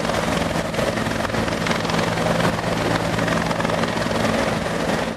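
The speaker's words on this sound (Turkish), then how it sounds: "Ekiplerin denizde bir saat arama yapmasının ardından sahil güvenlik helikopterinden destek istendi." A coast guard helicopter's steady rotor thrum and engine roar over the sea, loud and continuous throughout, with no voices.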